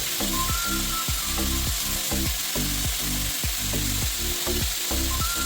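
Sauces including tomato ketchup, vinegar and green chilli sauce are being stirred and fried into a vegetable spring roll filling, with a steady close sizzle and a rhythmic scrape of the spoon against the pan repeating about twice a second.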